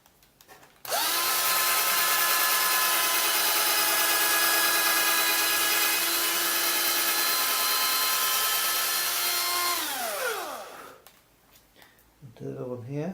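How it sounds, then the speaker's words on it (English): A power drill bores into wood while building a frame to mount a TV, one continuous high whine lasting about ten seconds before spinning down, close and loud, with a voice afterward. "Let's just use the drill."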